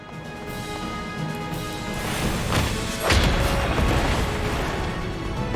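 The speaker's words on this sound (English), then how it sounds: "Did a swinging attack with explosives. Explosions." A boss in Final Fantasy 14 swings a huge hammer loaded with explosives, setting off booming blasts. Rumbling impacts build, and one sharp crash lands about halfway through over the game's steady background music.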